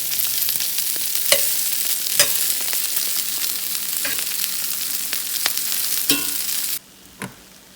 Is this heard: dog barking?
no